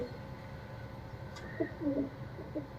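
Pigeons of a kept flock, loose in an open yard, give a few soft low coos in the second half, faint against steady outdoor background noise.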